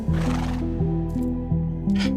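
A horse in the Minecraft video game whinnies in a clear, close, tonal neigh with repeated wavering pitch steps, loud and alone.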